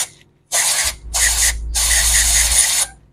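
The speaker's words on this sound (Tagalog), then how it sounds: "ito naman, ang gagamitin ko, ito, contact cleaner" Contact cleaner sprays in three close bursts onto the MAF sensor of a 9th-generation Toyota Corolla Altis, loud hissing blasts with short gaps between them, the last burst the longest.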